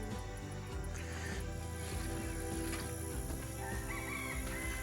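A rooster crows in a dark chicken coop amid a busy barnyard din of clucking chickens and other fowl, steady and moderately loud throughout.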